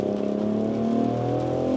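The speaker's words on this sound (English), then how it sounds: "Some more agile driving." A BMW X5 M50 SUV engine under agile driving, a steady loud hum and drone with a slight rise in pitch, heard from inside with no talking.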